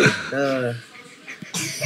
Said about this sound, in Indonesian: Anakku jadi batuk.